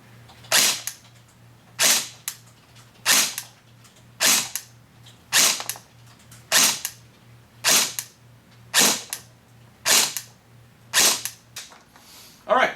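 An airsoft AEG (G4/Combat Machine type, 14.5-inch barrel) fires ten sharp single shots through a chronograph at an even pace about a second apart, with a low steady hum running underneath.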